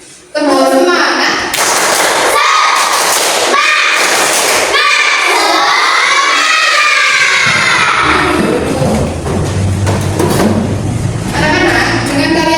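Elementary schoolchildren in a classroom doing the tepuk semangat cheer, loud rhythmic group clapping in bursts mixed with children chanting and shouting together, with an adult voice leading.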